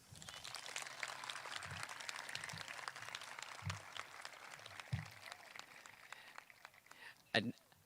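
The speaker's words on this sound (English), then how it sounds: "We have one more round of applause for Nora" A graduation crowd at a middle school 8th grade recognition ceremony gives a round of applause for Nora, steady, fairly faint clapping throughout, with a few low thumps and a brief louder burst near the end.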